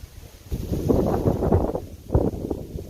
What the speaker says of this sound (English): I'm really sorry about this wind.